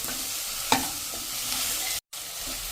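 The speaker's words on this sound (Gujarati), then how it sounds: "જે લીલું લસણ સમાર્યું છે 1 કપ, એ નાખી દેશું. અને એને આપણે આ રીતે હલાવી લેશું 2 થી 3 મિનિટ." A cup of chopped green garlic being stirred in a hot pan, a steady close sizzle with one sharp clink of the spoon early on, broken by a brief dropout of silence.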